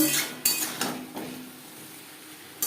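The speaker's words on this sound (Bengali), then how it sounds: "আলু বেশ ভালো করে মিক্সড করে দেবো" Utensil stirring boiled potatoes and vegetable stalks in a pan, giving a few sharp scraping clinks near the start and then quieter shuffling, close and alone.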